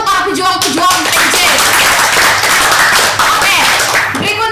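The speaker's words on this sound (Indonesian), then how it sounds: "tepuk tangan untuk para pejuang PJ" An audience claps hands in a lively burst of applause at an intern chat show. Voices and cheers mix in at the start and end.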